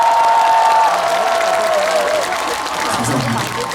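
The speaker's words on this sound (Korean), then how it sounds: "큰 박수 한번 주시겠어요?" A concert audience at a hometown show applauds with broad, steady clapping and some cheering, mixed with a lingering tone at the start and fading slightly toward the end.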